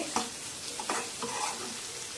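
Ridge gourd and egg curry is stirred in a pan, a soft steady sizzle with a few scraping strokes from the spatula, fairly quiet and without talk.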